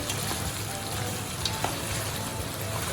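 Cebu-style adobo meat fries in its own rendered oil with a dense, even sizzle and crackle, close and steady, with a few small pops and no voices.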